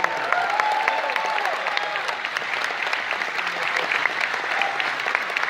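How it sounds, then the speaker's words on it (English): A convention crowd claps without pause at a live panel, a dense, even patter of many hands from beginning to end. "There's a special round of applause for Wyner."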